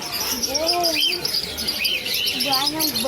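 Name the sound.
birds chirping at Pramuka bird market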